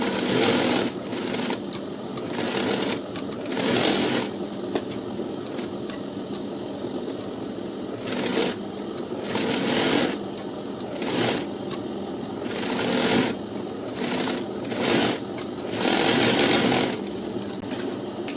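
A sewing machine runs in repeated bursts of stitching on a lined blouse, each run starting and stopping with short pauses, steady and fairly close, with no voices.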